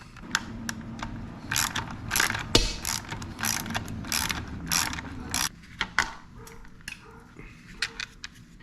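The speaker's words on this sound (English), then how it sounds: "Now go ahead and remove these 2 bolts that are here." Ratchet wrench clicking in quick bursts while two bolts are removed on a 2021-or-later Yamaha MT09 motorcycle, sharp close metallic ratcheting with brief pauses and light tool handling between runs.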